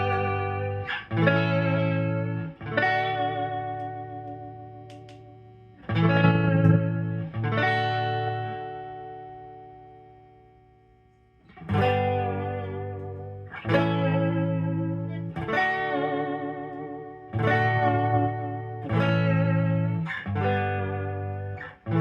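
A Danelectro Wild Thing electric guitar with a Bigsby vibrato plays strummed chords in short bursts and longer ringing passages, wet with effects and wavering slightly in pitch, loud and alone with no talking.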